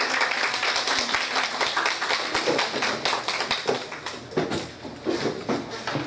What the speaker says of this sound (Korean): 감사의 박수 한 번만 봐주세요